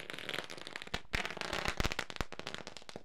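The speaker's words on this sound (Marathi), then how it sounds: "फटाक्यांची आतषबाजी खूप काही सांगून जाईल" Firecrackers go off at a village cricket tournament in Wakalan: a fast, dense string of sharp cracks and pops, loud and close, bursting irregularly for a few seconds.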